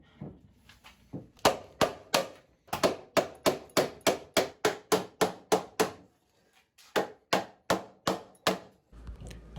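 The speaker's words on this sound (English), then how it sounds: "I then pound the dowels through the tabletop, anchoring the breadboard end onto the table." Wooden dowels pounded through a farmhouse trestle tabletop to anchor a breadboard end. Close, sharp hammer blows come in rapid, even bursts of strikes with short pauses between the sets.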